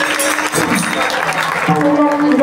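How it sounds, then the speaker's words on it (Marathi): An audience at a Harinam Saptah kirtan gathering claps loudly for the performers, a dense burst of applause close by, with voices and a sustained tone running through it. "सगळ्यांसाठी जोरदार टाळ्या वाजवा."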